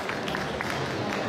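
An audience at an education talk applauds to welcome a guest speaker: a dense, even patter of many hands clapping at moderate distance throughout.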